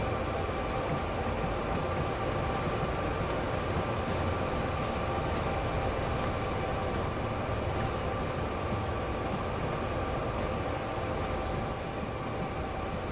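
A steady, continuous rumble and rattle of a coal freight train rolling along the tracks in the video game Train Sim World 2 on Sherman Hill, loud and unbroken throughout, with faint higher metallic hiss above.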